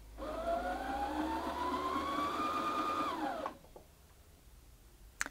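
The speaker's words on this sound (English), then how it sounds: "apply some pressure to the foot pedal to start winding the bobbin" A Brother Innov-is 15 sewing machine winds a bobbin with a steady, rising motor whine that holds for about three seconds, then winds down and stops, leaving near silence and a brief click at the end.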